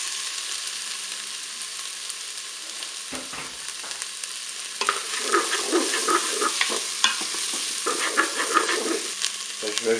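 Bell pepper pieces dropped into hot oil in a Cookeo multicooker, a quiet hiss that swells into steady sizzling frying with scraping stirring, close by and without talk.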